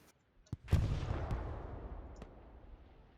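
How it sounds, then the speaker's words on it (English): Bombing-run explosions in the World War II shooter Hell Let Loose, a few sharp distant cracks followed by a heavy booming blast that rumbles and slowly fades, with scattered gunfire pops, no voices. "There's a big old bombing run coming in on the north"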